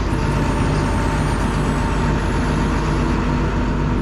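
Heavy truck with air brakes during loading onto a tow truck, a steady loud mechanical roar with hissing and faint high whine, close and unbroken for a few seconds.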